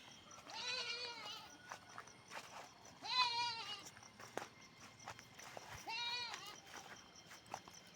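Young goats bleat in several wavering calls, one answering another in bursts spaced a few seconds apart, close by, with faint footsteps and rustling between calls.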